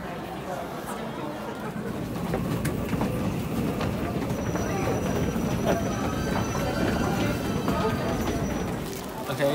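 A train rumbling at a station in Japan near Fushimi Inari, a continuous low rolling rumble with wheel clatter and faint metallic squeals, fairly near, with people talking over it.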